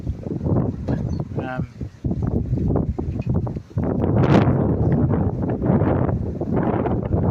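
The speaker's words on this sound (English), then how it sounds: "Out in the garden, it's a bit windy." Strong wind gusts outdoors in a garden on a cloudy, rainy day, buffeting the microphone in steady rushing waves under a person talking throughout.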